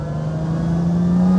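The engine of a Lamborghini Miura accelerates on a road test, a steady close-up engine drone rising slowly in pitch and growing louder over a second and a half.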